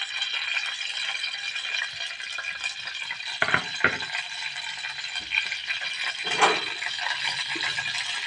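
Onions frying in a pan for a mango mutton curry: a continuous bright sizzle with rattling and a few scraping stirs of a utensil, close and steady throughout.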